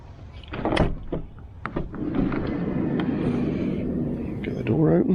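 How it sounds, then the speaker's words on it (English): A Fiat Ducato-based IH 630RL motorhome's door is opened, with a couple of sharp clicks and a thump early on, followed by a steady background hum while a voice talks. "Get the door open."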